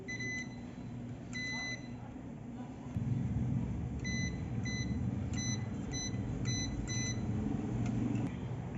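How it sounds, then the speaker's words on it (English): Multimeter continuity buzzer on the leads of a used 18650-type lithium cell, giving short high-pitched beeps in irregular bursts. The beeps sit over a steady low background hum and rumble, with no speech. "One probe is connected to one side, and we have to hear the buzzer sound."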